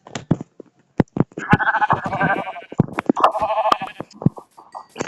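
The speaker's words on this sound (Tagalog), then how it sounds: "may tupa" Sheep in a blocky survival video game bleat in several short, wavering calls of a few beats each, spread across a few seconds, moderately loud with small clicks and taps between them.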